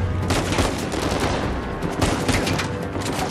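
Rapid weapon fire in the Uncharted 4 video game, a dense burst of automatic shots running without pause, loud and somewhat distorted, no talking.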